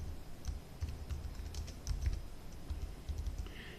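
Soft clicking of keys on a computer keyboard as a query is typed, irregular and close, fairly quiet, with no speech.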